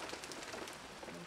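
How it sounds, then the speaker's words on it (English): Steady rain pours down outdoors around a backyard grill setup, a dense, even hiss of drops on surfaces lasting throughout, fairly close and moderately loud with no voices. "That rain is coming down."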